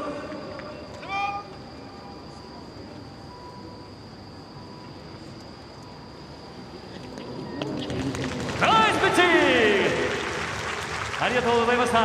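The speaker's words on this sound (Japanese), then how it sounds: "今一度大きな拍手をお願いいたします" Spectators clap at a ceremonial first pitch at a baseball game; an announcer's voice echoes over a public address system, then the applause swells loudly in the final seconds beneath the amplified speech.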